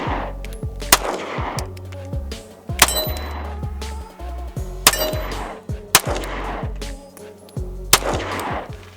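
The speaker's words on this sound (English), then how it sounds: "let's go ahead and shoot it one-handed so you guys can see the recoil difference" A Stoeger ST9 pistol fired one-handed gives off a series of loud, close handgun shots, roughly one every second or two, with metallic clinks and ringing between them; no voices.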